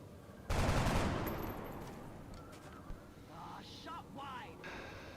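Gunfire in XCOM: Enemy Within: one loud burst of automatic fire erupts and fades over a second or two, followed by quieter game effects and a faint voice.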